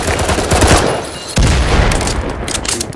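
Rapid bursts of automatic gunfire in a tactical video game shooter, loud and close, with two dense volleys separated by a sharp break.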